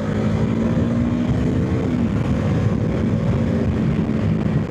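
A motorcycle engine drones loud and steady up close through a roadside overtake, with dense wind rumble and a slight pitch rise partway through, no talking.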